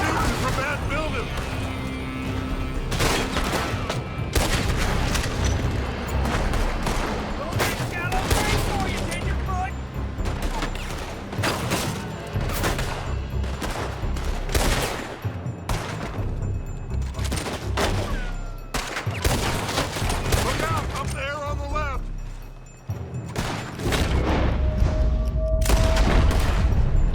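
Rapid volleys of gunfire crack out from a building during a shootout in Red Dead Redemption 2, dense repeated shots and crashes filling the scene loudly, with voices speaking over parts of it.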